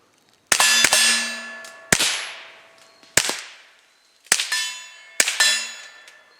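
A KelTec CP33 pistol fires five sharp, ringing shots at uneven intervals, each crack followed by a quick metallic decay, loud and close.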